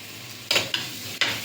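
Fresh curry leaves drop into a hot pan and sizzle sharply, with three or four quick stirring scrapes bursting over a steady hiss, close and clear.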